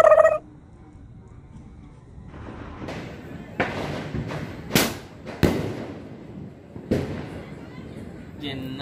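Diwali firecrackers burst outdoors in a string of sharp, cracking bangs, some near and loud and others more distant, scattered irregularly over several seconds, with a voice briefly heard at the start.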